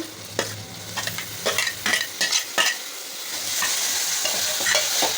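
Food sizzles and fries in a pan while a spoon stirs and scrapes in quick bursts, then a steady sizzle continues alone.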